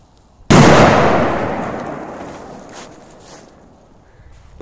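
A Crazy Robots firecracker thrown into a big canister goes off in one sudden loud blast, with the sound decaying into a long rumbling tail. No one speaks.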